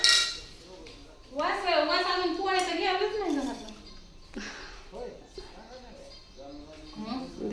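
Tea pots, cups and utensils clinking and knocking as they are handled in a village home, scattered bright metallic taps under frequent speech and children's voices.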